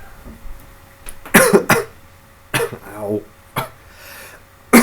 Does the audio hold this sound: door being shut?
no